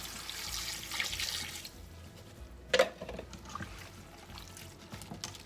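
Four cups of water are poured into a cooking pot holding cabbage and carrots, a soft steady splashing up close followed by a brief clunk and quieter sloshing.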